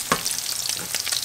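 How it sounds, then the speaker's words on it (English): Bacon frying in a pan until crispy, a dense, close crackling sizzle with a few sharper pops and a stirring scrape, with no voices. "we're just gonna cook the bacon until crispy"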